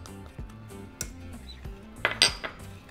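Dry spices and seasonings, including garlic salt, salt, black pepper and onion powder, mixed in a bowl for fish tacos: close clinking and tapping of a utensil against the bowl in an irregular rhythm.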